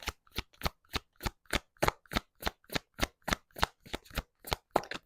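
An Akashic Oracle card deck being shuffled, with about twenty crisp riffling bursts in a steady, even rhythm, close and clear with no talking.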